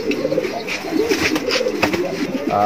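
Pigeons coo in a pigeon loft in Magura, a steady close chorus of low burbling calls overlapping throughout, with faint voices in the background.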